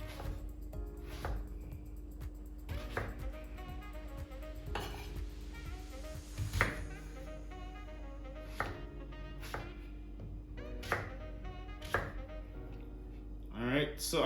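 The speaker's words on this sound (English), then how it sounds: "we're just gonna cut the breadfruit into smaller cubes" A knife chops breadfruit into small cubes on a cutting board, a series of sharp, fairly close knocks at an uneven pace under a constant low background hum.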